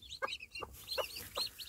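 A newly hatching Pekin bantam chick gives a handful of high, thin peeps in quick irregular succession, close to the microphone and with no talking.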